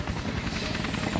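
A helicopter flies in the video game Max Payne 3, its rotor thumping in a loud, continuous rapid chop close by, with no talking.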